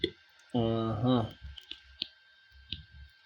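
A few short, sharp computer mouse clicks during an online image-rating task, single isolated clicks around a brief stretch of speech.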